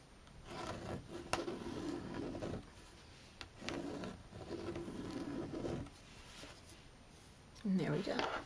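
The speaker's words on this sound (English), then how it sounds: "after I have drawn the circles" A pen traces circles on fabric with soft repeated scratching and rubbing strokes in close, quiet passes and brief pauses between them.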